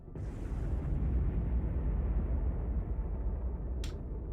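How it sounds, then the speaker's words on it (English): A large explosion in the space strategy game Crying Suns: a sudden deep boom swells into a sustained loud rumble that lingers for several seconds, with a brief bright crackle near the end. "That was a big explosion."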